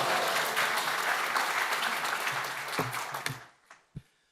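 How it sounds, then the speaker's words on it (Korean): Church congregation applauding together during a worship service, a dense sustained clapping that thins out and stops in the final second, with a few last claps. "박수로 환영하시겠습니다"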